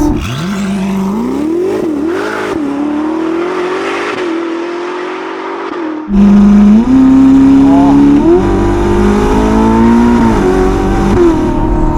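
The hybrid V8 engine of a 1109hp Novitec-tuned Ferrari SF90 Spider revs hard and climbs in pitch as it accelerates, loud and close, with a surge of power midway through.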